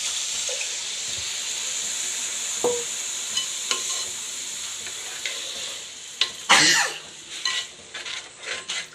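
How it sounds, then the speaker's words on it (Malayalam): Tamarind water poured into spice paste frying in a pan for inji puli, with a steady sizzle, a spoon stirring and scraping, and a few sharp clinks and splashes toward the end. "പച്ചമണം മാറി വന്നു പുളിവെള്ളം ഒഴിക്കുന്നതായിരിക്കും"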